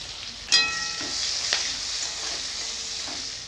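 Chopped onion drops into hot oil with chili, bay leaf and ginger, setting off a sudden burst of sizzling that settles into a steady frying hiss, with occasional stirring scrapes close by.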